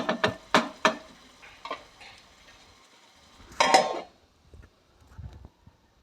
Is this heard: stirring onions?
yes